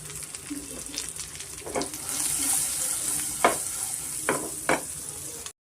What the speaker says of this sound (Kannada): ರೆಡಿಯಾಗಿದೆ ತುಪ್ಪದ ಒಗ್ಗರಣೆ.